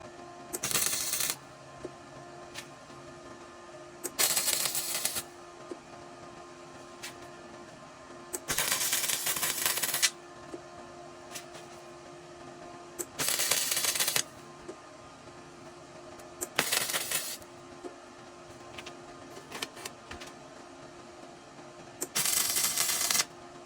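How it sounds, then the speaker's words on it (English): Tack welding of metal brackets for a dual fan shroud on an Integra: six short crackling bursts of a second or so each, spaced a few seconds apart and fairly close, with a quiet hum between them and no talk. "I'm gonna go ahead and tack weld them real quick."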